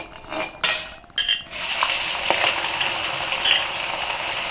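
Thinly sliced onions frying on a medium flame: a few clinks of utensils against the pan, then a loud, dense, steady sizzle that runs on close by without talk.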